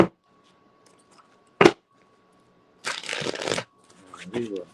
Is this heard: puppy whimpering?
no